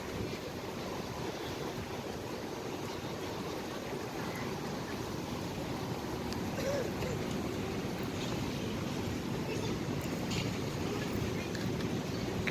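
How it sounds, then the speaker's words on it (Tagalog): Strong wind roars steadily across the microphone with a broad, constant rush and no pauses, blowing dust through the air. "Sobrang lakas ng hangin."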